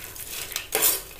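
Roasted chickpeas being stirred and fried in a metal pan, a spoon scraping and clinking against the pan with a brighter scrape near the end, close and moderately loud with no talking.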